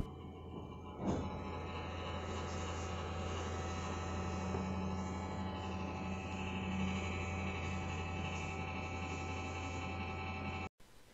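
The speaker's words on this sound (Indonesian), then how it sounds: "bisa kalian dengarkan untuk suara kipas setelah dibersihkan tadi tetap berisik" Cooling fan of an ASUS X450C laptop runs after cleaning, giving a steady, continuous whir with a low hum and faint high whine that stays constant throughout, ending abruptly.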